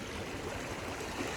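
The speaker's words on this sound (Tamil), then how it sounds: "இப்ப பாருங்க தண்ணி எப்படி பாயுது" Stream water flows steadily as a soft, continuous wash and babble, fairly faint and even, with no voices over it.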